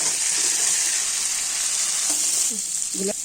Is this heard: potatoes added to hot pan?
yes